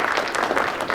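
Applause at a celebration-of-life gathering, dense and fairly loud, with many hands clapping in a steady, unbroken wash for about a second.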